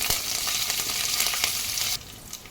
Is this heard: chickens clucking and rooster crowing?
no